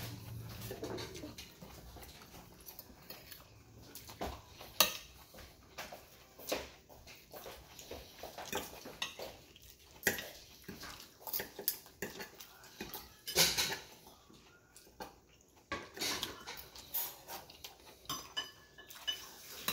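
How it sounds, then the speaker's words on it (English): Dishes and cutlery being washed at a sink, with irregular clinks, clatters and scrapes of plates and utensils, sharp knocks scattered throughout, and running water underneath. "Wash your dish"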